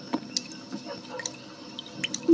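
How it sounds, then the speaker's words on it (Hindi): Slow, irregular water drips in a quiet, dark space, each drop a small wet plink separated by silence, close and fairly faint, with one louder drip at the end. "कुछ टपकने की टप टप की आवाज अब उसे बराबर आ रही थी"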